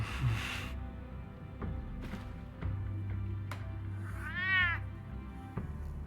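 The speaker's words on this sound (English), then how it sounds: "Fuck you, cat." A cat meows in the Telltale Batman video game: one clear, drawn-out meow midway through, set against quiet game ambience and scattered soft clicks.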